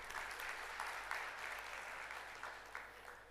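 Steady, faint applause from an audience at a morning panel of a data, ERP and artificial intelligence summit, continuing evenly for a few seconds with no voices over it.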